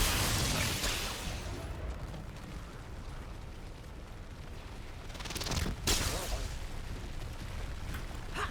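Explosions in Remnant II: a heavy blast opens, then a dull rumble continues, and a second burst hits loudly near the middle amid ongoing noise.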